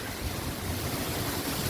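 Strong wind roars steadily past the microphone, a dense, unbroken rush of broad noise with no voices.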